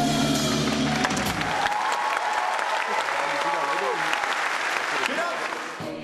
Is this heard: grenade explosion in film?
no